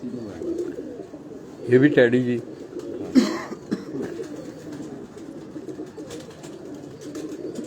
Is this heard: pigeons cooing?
yes